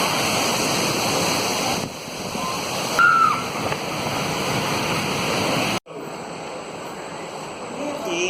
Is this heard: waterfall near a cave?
yes